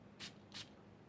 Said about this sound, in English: Let me spray this and talk about it